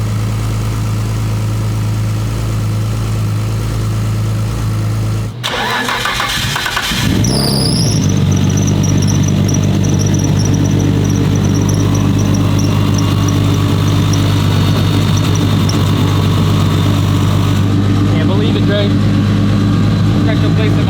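A 1500 hp Nissan Skyline GT-R R32 engine idles loudly and steadily up close. There is a brief break, then it revs back up with a high squeal and settles into a rough, droning idle, while voices are faintly heard over it.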